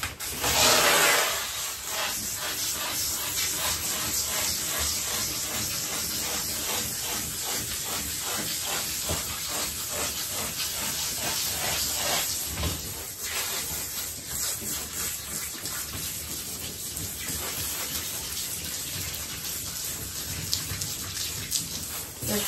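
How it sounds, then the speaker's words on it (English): A golden retriever being power rinsed with a grooming sprayer: a loud, steady hiss of spraying water that runs without a break for the whole stretch. "I'm going to power rinse her and then rinse her with the regular sprayer."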